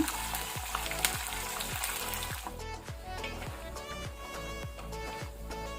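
Curry leaves and green chillies hit hot oil with roasting urad dal and peanuts for a poha tempering, giving a steady, close sizzle and crackle that runs through the whole stretch over rhythmic background music.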